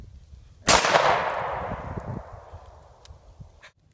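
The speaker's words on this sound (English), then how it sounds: "was just shooting the shotgun, which has a range of about 30 yards" A single loud shotgun blast fired outdoors, sharp at the onset, then a long decaying echo rolling away over about three seconds.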